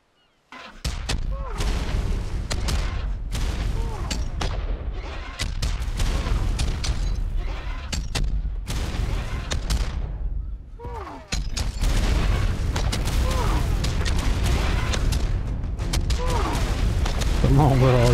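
A creature in artillery mode in an Ark-style creature game fires repeated heavy booming shots, loud and dense over many seconds, with the bursts pausing briefly before the barrage resumes, while a person talks excitedly over it.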